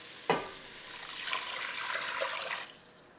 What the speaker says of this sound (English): Now we're going to add about 4 cups of broth